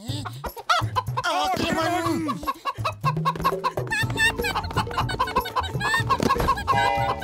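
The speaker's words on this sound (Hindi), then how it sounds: "मोटू मुर्गी पकड़ने का कोई आइडिया बता" An animated hen clucks and squawks in quick, loud bursts over cartoon music and sound effects, with agitated cackling throughout.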